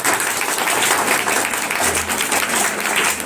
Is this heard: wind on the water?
no